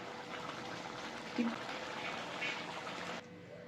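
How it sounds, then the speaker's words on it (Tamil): Mutton intestine gravy simmers in a pot with a faint, steady bubbling hiss, close and quiet, ending with a brief soft bump before it cuts off. "இப்போ ஒரு 15 நிமிஷம் இது கொதிக்கிட்டோம்."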